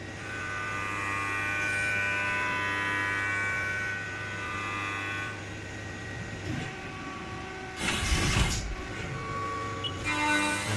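A shop machine cuts a thread on a small prototype racing part, giving off a steady, close mechanical whine and hum, then a brief louder burst of rough grinding before it settles again.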